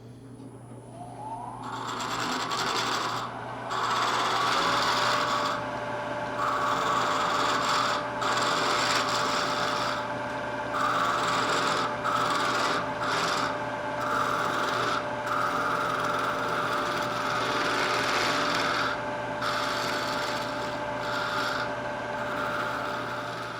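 Wood lathe spinning fast while a wooden finial coated with mineral spirits is worked, a steady whirring hum with a continuous close abrasive rasp that starts up after a moment and carries on with small interruptions, no voices.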